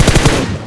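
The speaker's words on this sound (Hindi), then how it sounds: "सिंगल टैप मार रहा है।" Gunfire in Battlegrounds Mobile India coming from an apartment building, a quick burst of three or four sharp, evenly spaced shots, fairly loud, followed by a fading tail.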